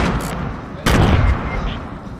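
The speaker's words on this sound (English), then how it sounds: "Hey, just shoot a warning one to scare him." In Fortnite, a single sharp gunshot cracks out loud and close, followed by a short fading tail against quieter game noise.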